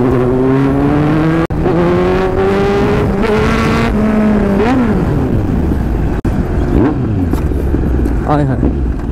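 New Kawasaki H2 motorcycle accelerating in third gear, its engine note climbing loud and close with rising revs and a brief dip midway, while people talk over it.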